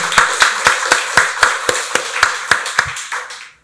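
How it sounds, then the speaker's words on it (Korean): A church congregation at a Sunday worship service applauds with a steady series of about a dozen sharp, evenly spaced claps that ring out loud in the room and then fade away. "박수로 하나님께 영광 돌리겠습니다"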